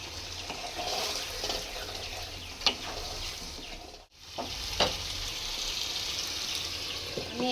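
Boiled onion and mutton being fried and stirred in a pan, a loud steady sizzle with scraping and stirring clatters, briefly dipping to near silence midway before the frying resumes.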